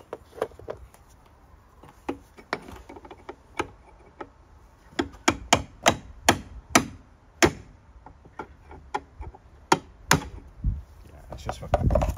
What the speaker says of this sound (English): I want to get a hammer and chisel on it, really. And knock it round.